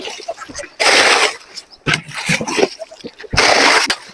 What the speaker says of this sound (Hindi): अभी मैं इस गैलन से इस ड्रम को फुल करूँगा।